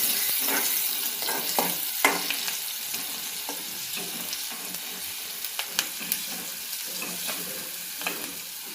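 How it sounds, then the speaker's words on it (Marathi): Onion sizzles in hot oil in a home kitchen, a steady fry with occasional stirring scrapes and small pops, fairly quiet and without talk. "कांदा छान फ्राय होऊ देऊ तेलात. चांगला तेलात ब्राऊन झाला पाहिजे."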